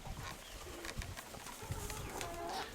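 Soft pigeon cooing with low throaty calls, faint against outdoor background noise.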